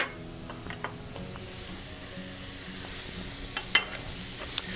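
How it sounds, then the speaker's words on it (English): Mushrooms sauté in butter in a pan, a soft, quiet sizzle with a few light clicks and scrapes from stirring near the end. "So we're going to saute this,"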